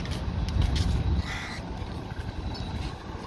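Crows caw a few times in the distance over steady outdoor rumble at a seaside park, with a low engine-like drone fading after the first second.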